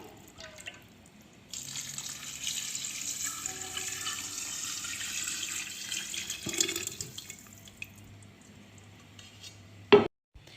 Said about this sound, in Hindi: उसी देगची के अंदर मैंने पानी डाल के और इसके अंदर डाल दिया है